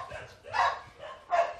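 A farm dog gives two or three short, fairly close barks with brief gaps between them, over faint background noise.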